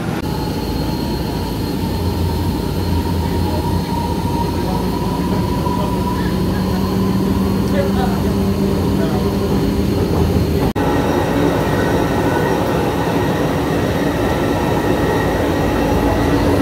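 Riding inside an MRT metro train heading toward BGC: a constant loud rumble of wheels on rail with faint squeals and hum, steady throughout with a brief jolt partway.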